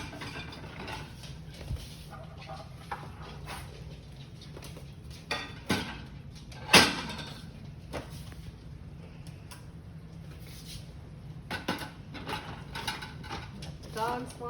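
Clattering and clicking of dishes and racks as a dishwasher is loaded, with irregular knocks and one sharp clink midway.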